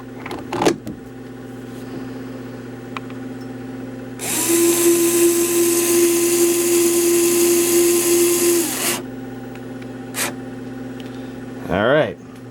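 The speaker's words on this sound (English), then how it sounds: "I'm going to put the bolts in to lock the control panel in place." A power driver runs bolts into a Sega Outrun arcade cabinet's control panel, a steady whirring buzz of about four seconds over a constant low electrical hum, with short clicks and handling noises before and after.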